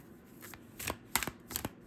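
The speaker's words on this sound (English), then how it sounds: "Spirit is making me shuffle longer than normal" Tarot cards are shuffled by hand close up, giving several quick riffling and slapping bursts in an uneven rhythm, fairly quiet with no voices.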